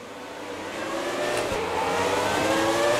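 A classic Formula 1 car in a racing video game pulls away from the grid at Baku, its engine revving up hard in a loud, steady climb that grows over a few seconds.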